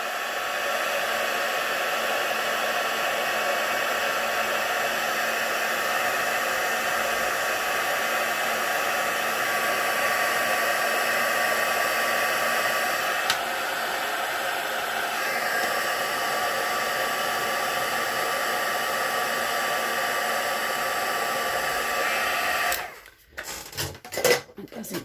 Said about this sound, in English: I'll just heat emboss that